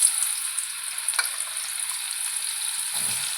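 Mango pieces sizzling in hot mustard oil for pickle, a continuous bright crackling fry with a brief stir or clink near the end, close and alone.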